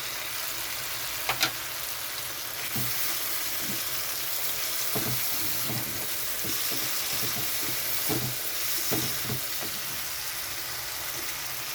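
Spices with Kashmiri chilli powder sizzle steadily in a pan for a Bombay duck curry, and a utensil scrapes and stirs them in irregular bursts throughout, with no one talking.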